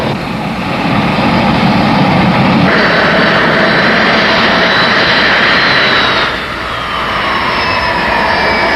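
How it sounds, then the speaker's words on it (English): A 1969 Boeing 747 with all four jet engines running up to equal thrust at identical throttle settings, a loud, continuous, close roar whose tone steps up partway through, dips briefly near the end, then builds again. "Then run up and trimmed, equalized thrust from all four engines at identical throttle settings."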